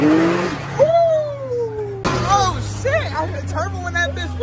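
A turbocharged car engine revs and pulls hard from inside the cabin, loud and close, with rising and falling whine tones sweeping up and down, while people talk over it.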